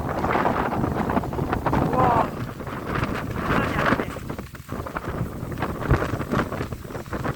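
Steady wind blowing across a frozen reservoir in winter, sweeping loose snow over the ice, with a continuous broadband rush that buffets the microphone throughout while a voice speaks over it.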